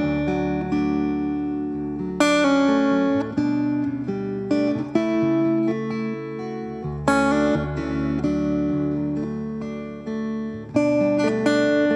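Acoustic guitar captured through a magnetic pickup, playing sustained strummed chords and single notes with clear, bright harmonics, loud and close, with no talking.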